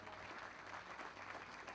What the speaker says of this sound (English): So give her a big clap and welcome her.